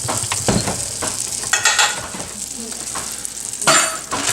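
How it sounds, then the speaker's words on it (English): Fat melting in a pan with a tablespoon of canola oil for a slow cooker meat sauce, a steady close sizzle broken by several stirring scrapes and light clinks, no voice. "I've got some canola oil and I'm going to put a tablespoon on there so it doesn't burn the fat."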